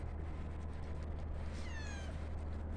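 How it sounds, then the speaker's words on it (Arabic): Cats kept in a yard beside a duck enclosure give a brief meow partway through, heard over a steady low background hum. "هاي القطط."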